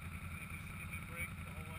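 A sport 4x4 engine idles as the vehicle crawls slowly downhill, a low, steady pulsing rumble close by and fairly faint, with voices talking over it.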